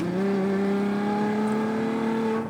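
A Ferrari FF's V12 engine pulls hard under acceleration, a loud, smooth rising whine with steady harmonics held for a couple of seconds without talk.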